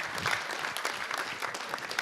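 Audience applause at a Slovenian Ski Association press conference honouring ski jumpers, a lively burst of clapping from a modest crowd that stays fairly even.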